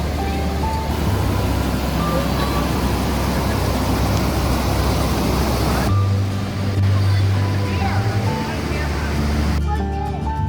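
A big waterfall on the Blind River gives a steady, loud roar of rushing water, continuous and broadband throughout, with an abrupt change in tone partway through and a brief break near the end.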